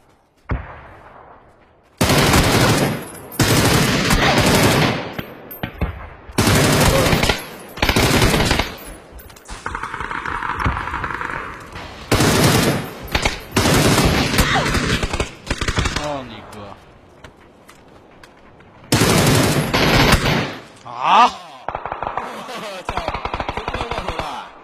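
Loud automatic gunfire in a shooter video game comes in long, dense bursts separated by short pauses, with quieter game sounds in between and players talking over the action.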